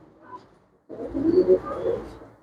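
A pure-breed pigeon with leg rings coos once in a short, close, low rolling burst after a brief quiet gap, with no one talking.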